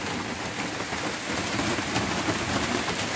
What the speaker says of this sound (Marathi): पण तुम्ही बघू शकता जस्ट पाऊस सुरू झाला आहे